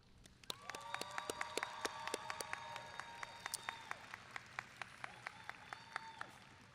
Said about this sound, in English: I was hoping together we could first give a round of applause to the teachers and staff.